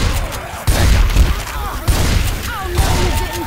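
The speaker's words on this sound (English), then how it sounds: "Oh shit, I'm shooting my team." Gunfire from Left 4 Dead 2 on the Dark Carnival campaign, loud bursts and thumps over a busy game soundscape with voices calling out in the background.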